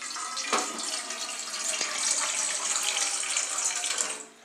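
About a quarter litre of water pours into a cooking pot, a steady splashing gush that runs for a few seconds and then tapers off, with no one talking.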